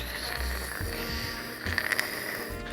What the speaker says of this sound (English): It'll make a nice sizzling sound if you've heated up the frying pan properly